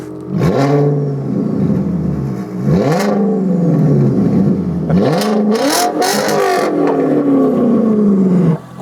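A VW Passat B5 with a W8 engine revs hard through several rising pulls, its note climbing in pitch each time over about nine seconds, loud and close with a steady exhaust roar and no talk.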